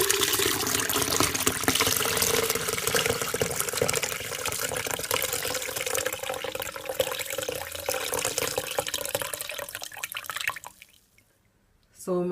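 Carrot juice pouring and dripping through a strainer, a steady liquid trickle and splashing under a speaking voice, fading out near the end before a brief return.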